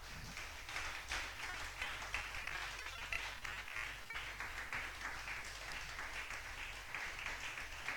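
A church congregation claps and applauds steadily throughout, a dense continuous patter of many hands filling the room at moderate distance without pause.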